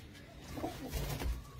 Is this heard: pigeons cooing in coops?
yes